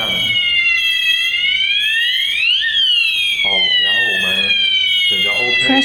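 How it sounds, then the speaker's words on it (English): An addressable fire alarm strobe sounder wails in a loud, close sweeping tone that rises to a peak and falls back, with a voice talking over the later part. "The strobe sounder alarms."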